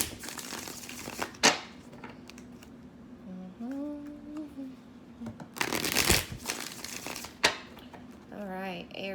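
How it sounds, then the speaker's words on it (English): Tarot cards riffle-shuffled in several crisp bursts, close by, separated by quieter pauses with soft handling noises and a brief tonal hum. "2 more shuffles."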